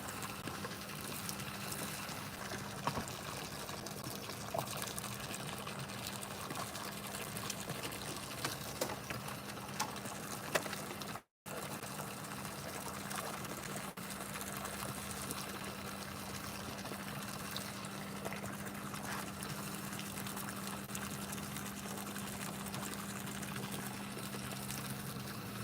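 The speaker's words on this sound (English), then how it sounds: "Hearing that water run, y'all, that ain't doing me no good." Water runs steadily in a continuous, moderately loud rush beside a fishing spot, unbroken apart from one brief dropout midway.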